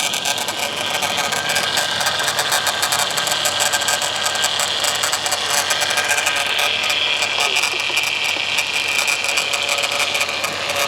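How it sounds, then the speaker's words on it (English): Whining power steering pump on a high-mileage Pontiac Grand Am GT gives a steady mechanical whir with rattly ticking layered through it, constant and close for about eleven seconds, with no talk. "A whiny power steering pump."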